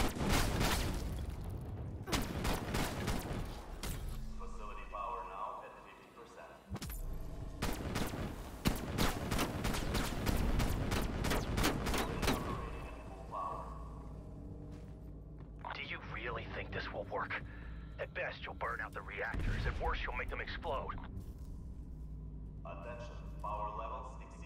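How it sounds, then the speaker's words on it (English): A space laser in the Firebase Z video game fires at a satellite dish in a series of sharp, rapid blasts and booms, followed by sustained crackling energy, with a voice speaking over parts of it. "Are you firing a goddamn space laser at my satellite dish?"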